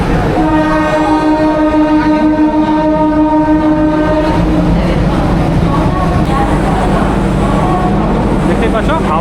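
The Howrah–Rampurhat Express arrives at platform 6, a loud, close rumble of rolling carriages with a sustained tonal hum or horn early on, fading into heavy mechanical rail noise.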